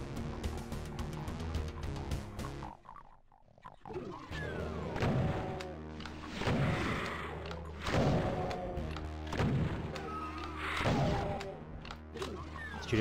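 Doom II on the Hell on Earth campaign, map The Citadel: repeated booming game gunshots and crashing impacts, dense and loud with monster roars, broken by a short lull before firing resumes steadily.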